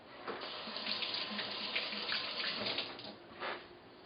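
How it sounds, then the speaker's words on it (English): A kitchen faucet runs over a tomato being washed for guacamole, a steady close splashing stream with brief surges as the fruit is turned under the water. "Alright, I'm going to start washing my tomato."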